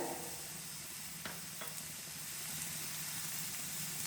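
Tamarind tossed into tomato chutney frying in a pan, a faint steady sizzle and hiss with a couple of soft stirring clicks, heard alone without talk.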